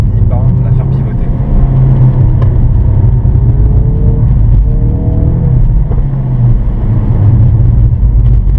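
A Ford Focus RS Pack Performance drifts on a track, its engine droning close and loud with rising, whining tones as the rear slides, under a speaking voice.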